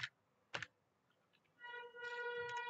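An Excel formula is typed on a computer keyboard: a few sharp, separate key clicks up close in a quiet room, followed by a steady electronic hum under further taps.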